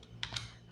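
A few quiet, close clicks on a computer keyboard as a command is typed into a terminal, three distinct keystrokes in under a second.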